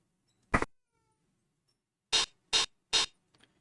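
A house cat meows four times indoors, one short cry followed after a pause by three quick evenly spaced meows, fairly close and clear against near silence.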